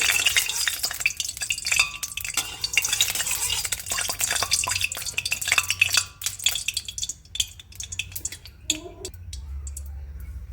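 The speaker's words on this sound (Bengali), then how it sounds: "কাতলা মাছটা ভালো করে ভেজে নেবো দেখতে পাচ্ছ তেলটা তেতে গেছে একটু ভালো করে নাড়া দিয়ে নিলাম" Catla fish fries in hot oil in a pan, giving a dense, crackling sizzle with frequent stirring scrapes and clicks, with a voice talking over it.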